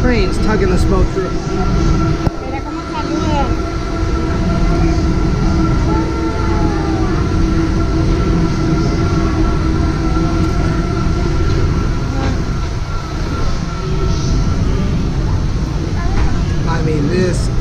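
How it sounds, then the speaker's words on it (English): Steady rumbling and mechanical grinding of Panama Canal rail locomotives towing a ship through, continuous and close, with voices murmuring in the background. "little miniature trains tugging this boat through."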